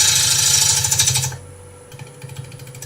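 A wood lathe spins a bowl blank while its surface is relief-carved, producing a loud, rapid, rattling buzz up close. It cuts off abruptly partway through, leaving a quieter, fluttering mechanical hum.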